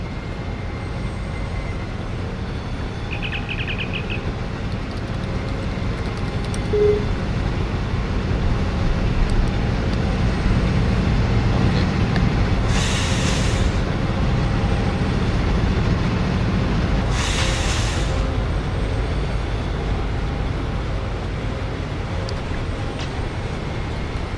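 Trains running together in the Run8 train simulator game give a low, steady rumble of rolling cars and locomotive engine drone, with two brief hissing bursts and a short tone partway through, no talk.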